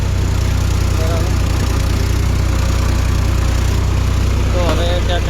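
A farm tractor's diesel engine idles steadily nearby, a constant low rumble throughout with a brief faint voice near the end.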